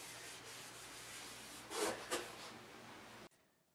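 Soft, steady rubbing of an oil finish into a wooden bench, with a couple of slightly louder strokes near the end before it stops abruptly.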